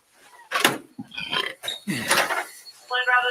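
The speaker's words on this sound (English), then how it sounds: "Did he just burp in the body?" A man lets out a burp amid busy talk during a police body-cam encounter over shoplifting and a check scam, the belch coming as a short low rasp between other voices.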